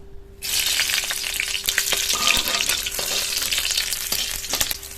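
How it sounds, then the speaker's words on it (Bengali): Dried and green slit chilies sizzle steadily in hot mustard oil for a Bengali raw tomato dish, a loud continuous frying hiss that starts abruptly, with occasional stirring clinks and no talk. "সর্ষের তেলের মধ্যে শুকনো লঙ্কা চেরা আর কাঁচা লঙ্কা চেরা দিয়ে দেব"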